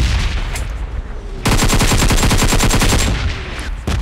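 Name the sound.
gunfire finishing off three enemies in a video game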